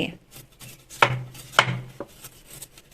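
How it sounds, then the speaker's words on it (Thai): A knife cuts through a bamboo shoot with a few sharp, crisp strokes, close up, separated by short pauses. "เราก็จะหั่นส่วนที่ดำๆ ออกทิ้งไปเลยค่ะ"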